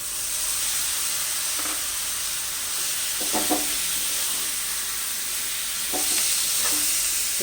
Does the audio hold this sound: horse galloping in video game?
no